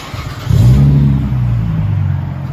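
A 2001 Lexus GS 300 with a 2JZ engine and a 2.5-inch Megan Racing exhaust revs loud and close, surging sharply from a steady idle rumble and then holding a droning pitch before easing off slightly.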